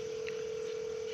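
A phone call being placed gives a steady, loud electronic tone that holds throughout, with a brief faint blip early on.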